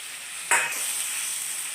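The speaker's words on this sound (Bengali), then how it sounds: "ইলিশ মাছের তেলে যে জিরেটা বেটে রেখেছিলাম, সেই জিরেটা আমি দিয়ে দিচ্ছি" A sudden loud sizzle as ground cumin paste hits hot hilsa fish oil, settling into a steady crackling fry.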